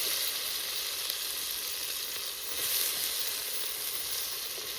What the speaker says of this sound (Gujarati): તો મિત્રો આપણે આમાં ઝીંગા નાખી દેવાના છે